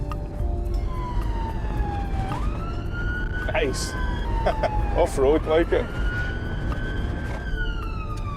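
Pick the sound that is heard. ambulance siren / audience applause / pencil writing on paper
ambulance siren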